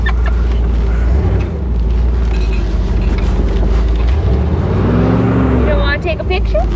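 A 1975 Bricklin SV-1 drives through snow with a steady engine and road rumble throughout, heard from inside the car, while voices talk over it.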